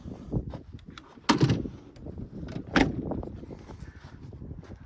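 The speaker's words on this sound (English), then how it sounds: "I'll just close the back up so you see what it looks like with the doors closed" The back doors of a self-built Vivaro campervan conversion are pushed shut, with two solid thuds about a second and a half apart amid rustling and handling noise, fairly close, with no talking.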